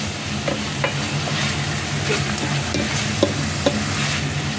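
String beans and pork sautéing in a pan for ginisang sitaw, with a steady sizzle and repeated scraping stirs of a spatula, close and continuous, no talk.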